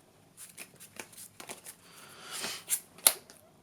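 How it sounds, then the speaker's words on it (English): A Yu-Gi-Oh card deck being shuffled by hand, a series of soft riffling bursts and papery slaps building to a couple of sharper snaps near the end. "I'll shuffle this up properly"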